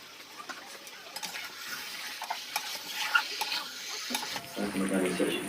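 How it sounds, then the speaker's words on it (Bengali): Steamed young jackfruit, potato and goat fat stir-fried together with spices in a pan, giving a continuous soft sizzle with stirring scrapes, fairly faint, closer and louder near the end. "এবার সবগুলো একসাথে কষিয়ে নেব"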